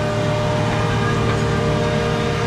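A tractor engine runs steadily while digging peanuts in a field, giving a loud continuous droning rumble with an even hum and no pauses.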